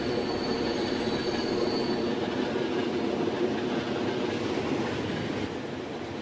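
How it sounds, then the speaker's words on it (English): Two LNER A4 steam locomotives pass each other on the line, giving a steady, loud rolling rumble of wheels and carriages that holds for several seconds before easing slightly. "the two A4s that are passing each other now is"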